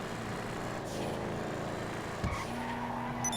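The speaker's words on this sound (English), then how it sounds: "Boom, car revs up, tires start spinning, and you're moving." A car in GTA V spins its tires, giving a sustained, loud squeal over a continuous engine drone, with a sharp thump partway through, close, and no voices.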